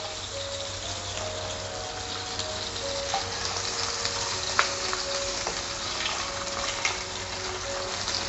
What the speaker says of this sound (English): you have to put in the oil and stir fry a bit until the salted fish bone is turning into brownish